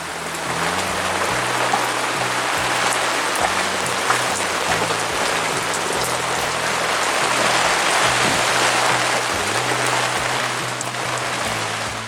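Steady heavy rain pours down, a dense, constant hiss of drops on surfaces with a low engine-like hum underneath.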